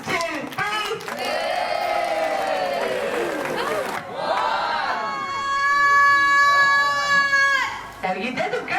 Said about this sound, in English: you're all going to give him a cheer